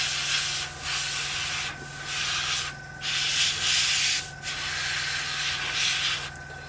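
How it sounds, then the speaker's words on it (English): Close, continuous airy airbrush hiss spraying paint onto a 1/48 scale Tamiya de Havilland Mosquito model, in several bursts separated by brief pauses, over a low steady motor hum. "painting with an airbrush, you don't need to block paint everything"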